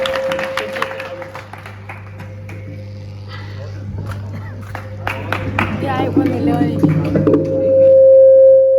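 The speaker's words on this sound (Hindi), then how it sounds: "आप सबकी जोरदार ताली डॉक्टर मोहन बैरागी जी को मेज पर लेके आए" An audience at a Hindi poetry gathering, a kavi sammelan, claps, with scattered applause rising and thickening toward the end over a steady electronic hum and a sustained tone, with some talk mixed in.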